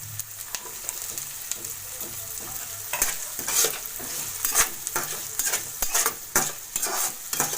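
Cashews and raisins fry in hot oil in a pan for chirer pulao, with a steady sizzle under repeated close scraping stirs that grow busier after the first few seconds.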